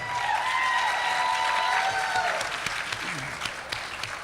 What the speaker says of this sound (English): Big round of applause for Lisa and Chris.